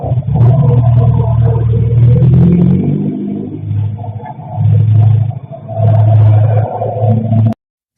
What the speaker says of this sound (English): This would be the right timing to hear the same car we just heard a little while ago. Same exact muffler.